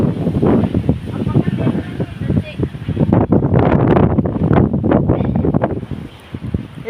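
Strong wind gusts roar and buffet a microphone outdoors near coconut and palm trees, a loud continuous rush with a voice talking over it throughout.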